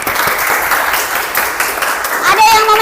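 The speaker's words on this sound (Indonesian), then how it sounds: "Tepuk tangan dulu." Students in a classroom break into a burst of applause that stays steady and fairly loud for about three seconds, with a few voices and a brief tonal sound mixed in near the end.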